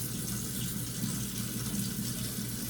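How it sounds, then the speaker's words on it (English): Water from a kitchen tap runs steadily as hands are washed under it, a constant close hiss of flowing water into the sink with no voices. "I'm gonna wash my hands."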